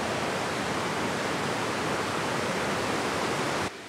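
A river rushes at its narrowest point by the site of an old bridge along the Vildmarksvägen in Sweden, a loud, steady broadband roar that cuts off abruptly near the end.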